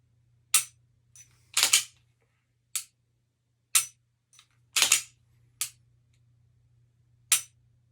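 A handgun's trigger snaps in dry fire practice, seven or eight crisp isolated clicks spaced about a second apart, close and clear over a faint low hum, with no speech.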